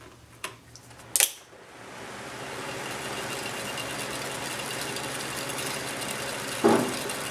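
A small windmill generator spins with a steady whirring hum after a couple of brief knocks at the start, holding a constant level throughout, with one more short clatter near the end; no one speaks.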